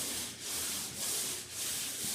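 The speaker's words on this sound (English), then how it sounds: "Right here is what you call extended sanding with the sandpaper on it." Steady abrasive rubbing of sandpaper against a wall, a rhythmic back-and-forth scratching with regular strokes, close and fairly quiet, no voices.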